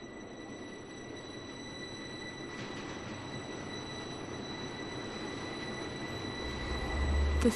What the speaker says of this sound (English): we open as on the train where everybody's getting deported